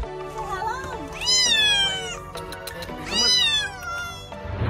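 A cat meows twice in long, drawn-out, rising-and-falling cries, loud and close, with a short pause between the two calls.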